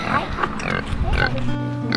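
Piglets feeding on a homestead farm, grunting and squealing steadily up close amid busy rustling, with faint voices in the background.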